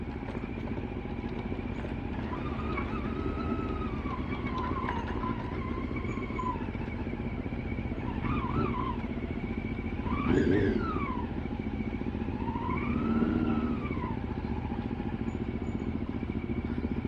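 CLX700 motorcycles riding a muddy, rocky road in Mindoro, a steady engine drone and rumble with rising and falling revs and occasional rattles, continuous and close, with no talk.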